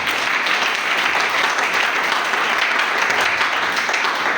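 A church congregation applauding in praise during worship, dense continuous clapping that stays loud and even throughout, with faint voices mixed in under it.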